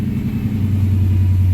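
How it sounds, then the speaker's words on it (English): The 4.3 engine of a 1992 Chevrolet S-10 pickup idles steadily up close, a loud low rumble with only a faint whine on top from the alternator. "The good old alternator whistle of the"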